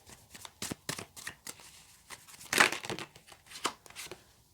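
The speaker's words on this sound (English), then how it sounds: "If I can actually get the cards to shuffle properly." Tarot cards are shuffled close by in quick riffling bursts, with soft taps and flutters between them and one sharper snap partway through.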